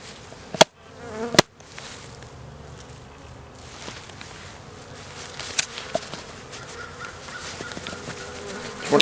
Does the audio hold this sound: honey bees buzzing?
yes